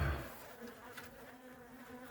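Honeybees buzz steadily during a beehive cut-out, a dense sustained drone with a louder burst at the start, close and continuous with no talking.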